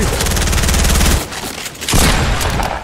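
Loud, dense automatic gunfire in a Fortnite Team Rumble match, a rapid rattling stream that breaks off briefly and then resumes just as heavily.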